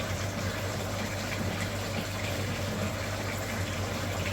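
Pressurised water rushing steadily through a freshly repaired car heater radiator during a cooling system flush on a Suzuki Grand Vitara, a constant close hiss and gush with no pauses or voices.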